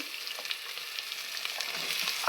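Onions, ginger and garlic fry in hot oil for a soya chunks curry, a close, continuous crackling sizzle with small pops throughout and no voices.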